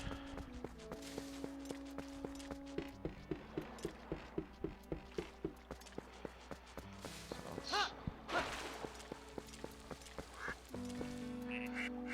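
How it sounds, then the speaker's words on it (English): Ducks quacking near a fishing hole in The Legend of Zelda: Twilight Princess, a series of short quacks scattered over soft game music, fairly close and moderately loud. "these ducks are not very shy"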